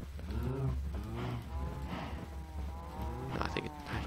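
Minecraft cows moo repeatedly, with several overlapping low, drawn-out calls at close range over a steady game background.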